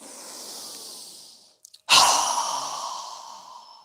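A strong yoga exhale through the mouth: a soft breath fades out, then after a short pause a sudden loud, breathy rush of air bursts out close up and slowly trails off.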